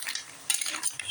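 A mussel dish being stirred in a pot before broth goes in, with a short burst of wet scraping and utensil clinks, close and brief.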